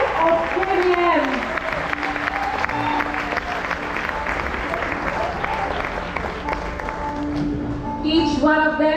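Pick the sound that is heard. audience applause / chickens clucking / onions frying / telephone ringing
audience applause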